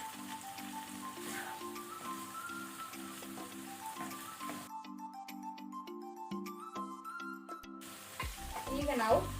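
Shrimps, chestnut mushrooms and capsicum stir fried in a pan over high flame with corn flour slurry added, giving a steady sizzle with scraping stirring throughout and a louder clatter near the end.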